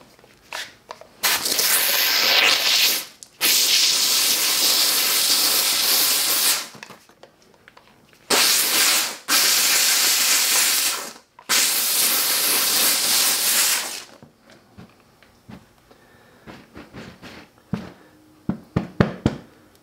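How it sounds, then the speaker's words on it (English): Vevor steam cleaner blasts a stained carpet in several loud hissing bursts of a few seconds each, with short pauses between them and light knocks and handling clicks once the steam stops. "I'm gonna hit it with the steam."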